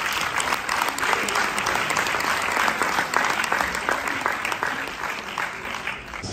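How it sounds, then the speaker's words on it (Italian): An audience at a live music show in Tuscany, Italy, welcomes a singer with loud, sustained applause. The dense clapping is close and steady, with some crowd noise, and it eases slightly toward the end. "lo accogliamo con un grande applauso come merita un grande professionista"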